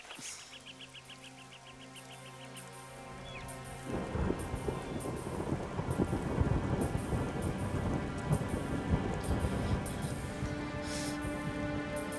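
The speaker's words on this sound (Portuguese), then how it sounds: "Essa chuva vai durar uns minutos." Heavy rain pours down with rolling thunder; a quieter patter with faint tonal background gives way after a few seconds to a loud, dense downpour and low rumbling that continue to the end.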